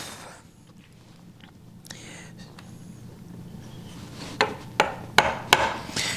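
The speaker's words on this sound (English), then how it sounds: "chisel to be sharp, because you're coming down on an end grain wall and you need it to bite" A hand chisel chops into the end grain wall of a wood mortise, starting as faint scraping and building into a run of sharp, evenly spaced knocks near the end, close and fairly loud.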